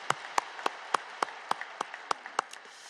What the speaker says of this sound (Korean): 하나님께 우리 영광과 감사의 박수 한번 힘차게 올려드립니다